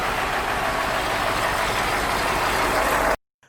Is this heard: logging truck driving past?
yes